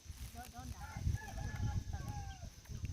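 Chickens cluck and call in a rural farmyard, a series of short squawks over rumbling background noise, with people talking nearby.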